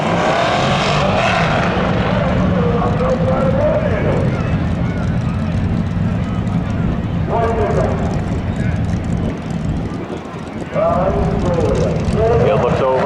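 Drag strip launch at Seekonk Speedway pitting a Ford Mustang against a red 1978 Chevy Camaro, loud engines roaring and revving continuously, with rising shifts and a brief dip midway, under an announcer's talk.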